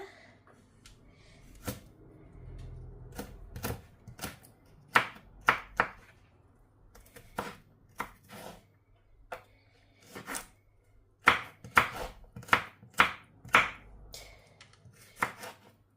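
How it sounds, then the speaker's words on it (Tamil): A knife chopping ingredients into small pieces for Sri Lankan chicken devilled: crisp knocks on a board come in uneven runs, with a quick burst of rapid chops near the end. "குட்டி குட்டியாக கட் பண்ணுங்க"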